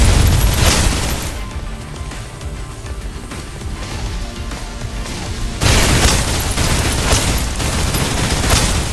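Suppressive gunfire rattles from a shooter in the video game Snowbreak: Containment Zone, a loud, dense burst of rapid shots and booms that eases, then surges again near the end.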